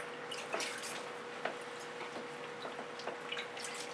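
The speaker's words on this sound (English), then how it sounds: "And I need a moment to rinse my hands." Water runs and drips as hands are rinsed after paint-pouring fluid art work, a steady quiet wash with small splashes and drips scattered throughout, no talk.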